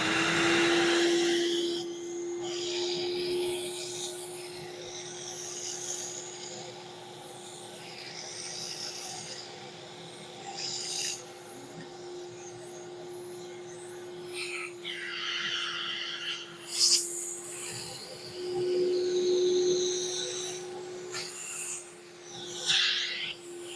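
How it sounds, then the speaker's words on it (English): Alltec Express vacuum motor and pump run as a steady drone with a constant hum, while soft rubbing and hissing from the hand tool come and go over it throughout. "turn the vacuum motor and the pump on"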